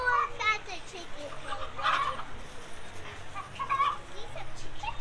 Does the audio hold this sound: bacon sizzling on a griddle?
no